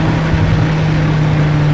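2008 BMW E60 M5 with manual gearbox, its V10 engine droning loud and close at a steady pitch as it drops to second gear, a sustained low hum with no talk.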